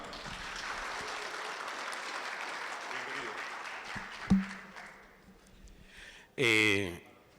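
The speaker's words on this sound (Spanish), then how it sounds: "demos un fuerte aplauso a Alex Newman." An audience applauds a speaker at a presentation on artificial intelligence in accounting and auditing. Steady clapping fills the room for about four seconds before dying down, then a voice briefly speaks.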